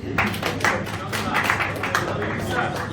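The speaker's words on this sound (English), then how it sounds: "Clap for yourself." Training-session audience in Lagos applauding themselves, a steady patter of many hands clapping close by for several seconds, with no voices on top.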